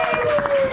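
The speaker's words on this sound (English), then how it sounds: "Let's give him a round of applause, please." Crowd applause at a Knoxville comedy show, brief and steady clapping from the audience, with a sustained tone and some voice sounds running over it.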